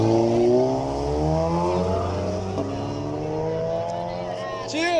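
A car engine revving hard at a time attack race in Kenya, rising and falling through the gears in a loud, close, continuous whine with a brief rise near the end.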